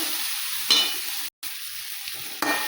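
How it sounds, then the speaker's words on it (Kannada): Tomatoes sizzle in a hot pan while a spoon stirs them, with two sharp scraping strokes over the steady frying hiss and a brief break in the middle. "ಟಮಾಟೆ ಹಾಕಿ ಚೆಂದಾಗಿ ಮಿಕ್ಸ್ ಮಾಡ್ಕೊತೀನಿ"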